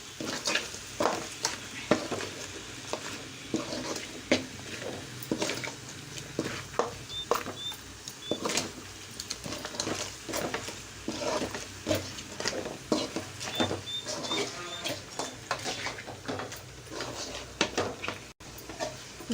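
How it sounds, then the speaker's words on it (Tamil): Crab pieces being stirred into masala in a pan for Chettinad crab gravy, a quiet run of scraping and patting strokes with a soft sizzle underneath, repeated irregularly throughout. "நண்டு உள்ள போட்டாச்சு. இந்த மசாலாவில் நல்லா மிக்ஸ் பண்ணுறேன்."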